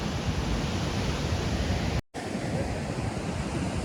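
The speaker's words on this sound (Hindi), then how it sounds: "कहाँ कहाँ तक आ रही है लहरें।" Steady broadband rush of a river in flood in Kullu-Manali, flowing water loud and continuous, with a brief dropout midway before the churning resumes.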